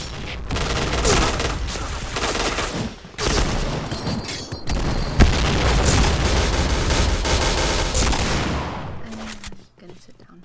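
Grenade blast and gunfire in the Point Blank video game: dense bursts of shots and booms run almost without a break at close range, stop briefly, then return before a quiet end.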